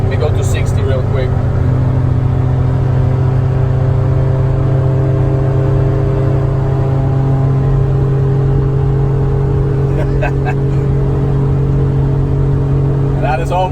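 A 1990 Mitsubishi MiniCab kei van with a five-speed gearbox pulls toward 60 mph, its small engine holding a loud, steady droning hum with a constant whirring tone from inside the cab, and no talking over it.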